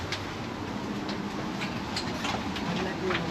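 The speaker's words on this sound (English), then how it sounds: "This train has 5 carriages." Steady rumble of a moving five-carriage passenger train with faint rhythmic clatter and occasional higher clicks, heard from inside a carriage, continuous and moderately loud.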